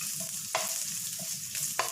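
Ginger pieces frying in hot oil in a pan for sweet and sour chicken, giving a steady soft sizzle with occasional sharper stirring scrapes and clatters, close and fairly quiet.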